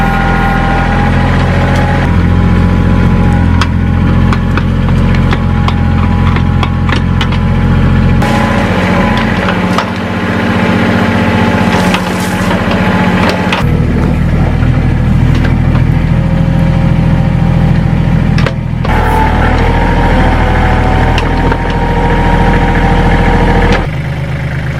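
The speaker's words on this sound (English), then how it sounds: "Today we're going to be operating the Kubota" A Kubota backhoe's diesel engine runs steadily and very loud up close, a constant low rumble with rattling vibration that shifts in tone a few times as the load changes.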